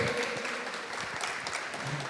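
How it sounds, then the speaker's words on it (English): Applause for a panel at a community event: a soft, steady patter of many hands from an audience, moderately distant and fairly quiet, with no talking over it. "So, an applause for these leaders that are here."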